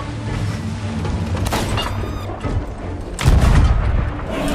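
Cannons fire in a pirate ship video game, with heavy booms and rolling rumble, the loudest blast landing about two-thirds of the way through.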